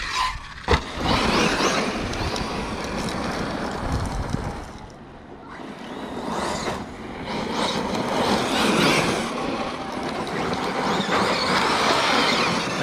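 Arrma Fireteam RC car with a Hobbywing Max 8 G2 system and 2250kv motor whines at full throttle, wheels spinning, in a loud sustained electric rush that dips briefly and then surges again.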